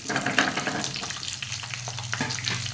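Three onions sizzle steadily in a hot pan for a spicy onion tomato chutney, a close, continuous frying crackle with soft stirring scrapes and no voices.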